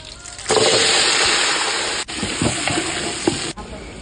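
A large batch of country chicken and small shallots hits hot sesame oil with cinnamon, cloves and fennel, breaking into a loud, close sizzle with stirring scrapes and brief dips as the food is turned.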